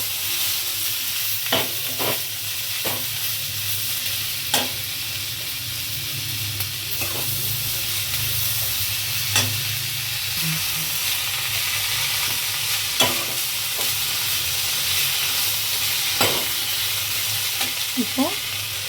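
Onions frying in a pan with coriander and mint give a steady close sizzle, broken by repeated scraping strokes of a spoon stirring the mixture at irregular intervals.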